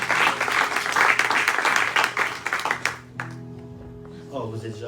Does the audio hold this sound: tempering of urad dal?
no